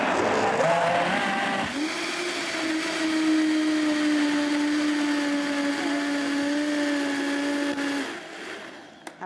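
A Vitamix blender runs at high speed, a loud, close motor whine that climbs in pitch as it spins up, holds a steady tone for several seconds, then winds down at the end.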